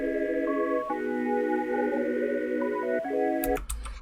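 A melodic synth loop in FL Studio plays sustained chords with a few higher notes moving on top, steady and moderately loud, ending in a burst of percussive clicks.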